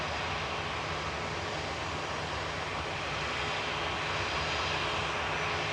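Boeing 777 engines at Manchester Airport give a sustained, broad jet roar, steady and loud, holding evenly throughout with a low rumble beneath and no voices over it.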